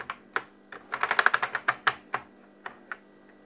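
Someone presses keys on a Commodore 64 keyboard, a few scattered clacks followed by a fast rattling burst and then slower, spaced taps, close-up with no talking.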